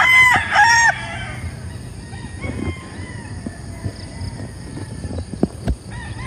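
A rooster crows loudly and close at the start, then chickens cluck and call intermittently around a muddy yard.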